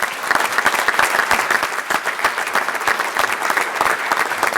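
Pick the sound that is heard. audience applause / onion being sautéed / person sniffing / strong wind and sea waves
audience applause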